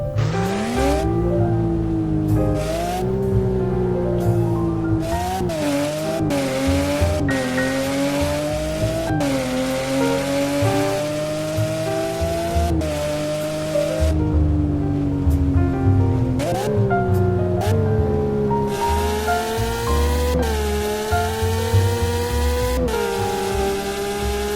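A 500-horsepower GT3 car with a spoiler in the Roblox game Midnight Chasers revs loudly and continuously, its engine pitch climbing through each gear and dropping sharply at every shift, with no voices.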